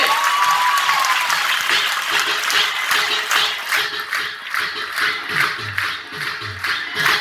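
Sustained audience applause at a motivational talk, a thick, steady wash of many hands clapping that fills the whole stretch and thins slightly toward the end.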